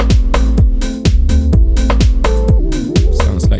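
A beat plays on a Teenage Engineering EP-133 K.O. sampler: punchy repeating kick drums and snappy hits under layered synth and melodic sample parts, loud and dense with no talking.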